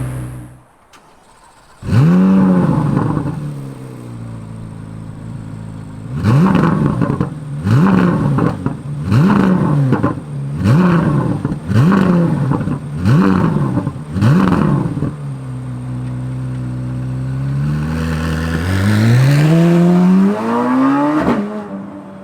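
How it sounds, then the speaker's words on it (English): A Chevrolet Corvette Z06 (C8) revs hard through a rapid series of short upshifts, each gear rising and dropping in quick rhythm, then pulls in one long climbing wail; loud, close and with no talking. "We're gonna go on throttle in this Z06."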